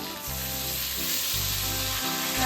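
Spice paste sizzles in a wok while it is stirred for a fish roe dish, a bright continuous frying hiss with low rumbling swells from the stirring, close and without talk.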